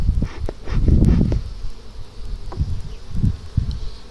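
A low, continuous buzzing of many honeybees around an open hive during an inspection fills the background, swelling and fading, with occasional soft rustles and thumps nearby.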